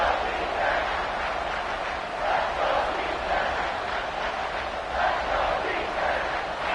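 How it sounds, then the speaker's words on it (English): A stadium crowd at an American football game roars steadily for the defense on third down, a dense, sustained cheer that swells and dips. "Crowd getting this defense whipped up on third down."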